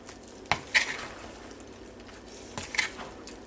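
Pasta salad stirred in a bowl, with a few soft squishy scrapes and light clinks of a utensil in two short bursts over quiet background, close and without speech.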